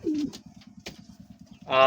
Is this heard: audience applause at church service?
no